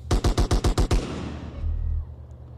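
An AK rifle in GTA San Andreas fires a rapid burst of about seven loud, evenly spaced shots, then a low rumbling tail fades out.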